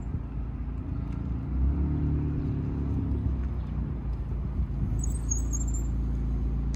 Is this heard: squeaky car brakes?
yes